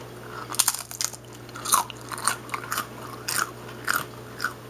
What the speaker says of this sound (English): I'm going to let you hear the crunch of this potato chip.